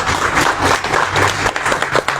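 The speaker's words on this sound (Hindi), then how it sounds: "आप परमेश्वर की महिमा के लिए ताली बजा सकते हैं।" Loud applause from a church congregation, brisk dense clapping throughout, close and sustained.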